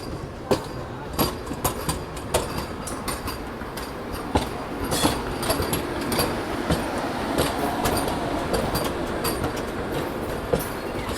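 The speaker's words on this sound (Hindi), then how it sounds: "यहाँ पर आ रही है Ayodhya cantt Anand Vihar terminal Vande Bharat express" The Ayodhya Cantt–Anand Vihar Terminal Vande Bharat Express, a 16-coach train, rushes past close by with a loud steady rumble and rapid rhythmic clicks of wheels over rail joints.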